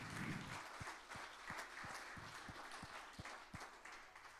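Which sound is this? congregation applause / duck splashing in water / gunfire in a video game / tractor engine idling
congregation applause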